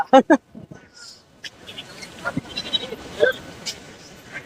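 Goats at a busy rural goat market in Kunnathur bleat in a few short loud calls near the start, then fainter bleats and crowd murmur follow with people talking nearby.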